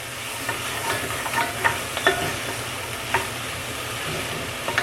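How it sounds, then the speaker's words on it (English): Ingredients for clam chowder saute in a pot with a steady close sizzle, broken by scattered light clicks and scrapes of stirring, with no talk. "this has been sauteing for about 5 minutes"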